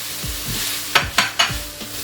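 Capsicum, onion and other vegetables stir-fry in a pan for street-style egg shawarma, with a soft steady sizzle and a few quick scraping stirs of a utensil close by.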